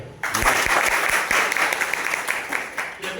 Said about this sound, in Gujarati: જોરદાર તાળી છે